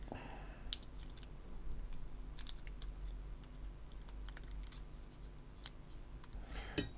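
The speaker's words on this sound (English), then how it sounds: "Let's cut that hole out." Scissors snipping a hole in heat shielding during an N64 console RGB mod, a quiet series of small irregular clicks and snips, close and faint, with no talk over them.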